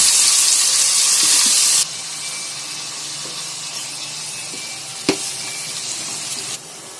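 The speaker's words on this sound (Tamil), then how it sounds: "தக்காளியை வதக்கிடுவோம்" Tomatoes sauté in sesame oil for pickle: a loud hiss for the first couple of seconds settles into a softer sizzle, with a single sharp clack of utensil midway.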